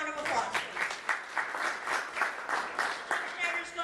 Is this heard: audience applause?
yes